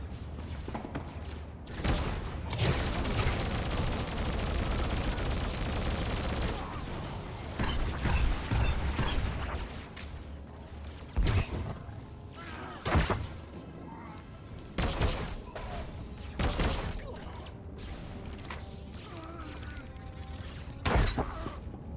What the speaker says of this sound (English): Oh, you hear a droid getting into combat there.